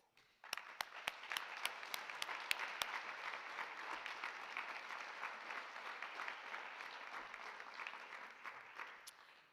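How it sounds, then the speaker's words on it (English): Graduation ceremony audience breaks into sustained, even applause, starting abruptly with a few crisp close claps up front, then a broad wash of clapping that holds steady and fades slightly near the end. "Please, everyone, graduates too, give us a round of applause"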